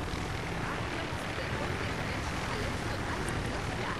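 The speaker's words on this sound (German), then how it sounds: "ist der Motor laut hier" A loud engine drones in the Jack Keane adventure game, a continuous dense roar like an aircraft propeller motor, steady and unbroken throughout, with a voice speaking faintly beneath it.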